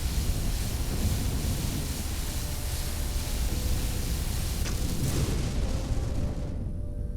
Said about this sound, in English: what's those explosions I'm hearing?